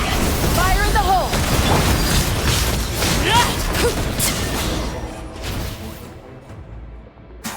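A dense burst of booms and crashes erupts during a Genshin Impact story scene, loud and sustained before fading toward the end, with character voices talking over it.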